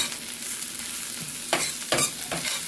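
Shallots fry in olive oil and butter, a soft continuous sizzle close by, broken by a few sharp scraping stirs of a utensil through the pan near the end.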